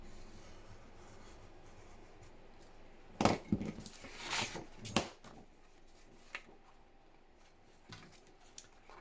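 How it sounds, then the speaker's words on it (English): A craft knife drawn along a metal ruler cuts through paper, giving a cluster of close scraping, rasping strokes and a few light clicks against a quiet room, with faint taps afterward. "Let's get a metal ruler, a craft knife, and let's try and cut this out."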